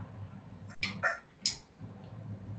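A dog gives a few short, quiet yips and barks indoors, three brief close sounds spaced about half a second apart against soft room noise.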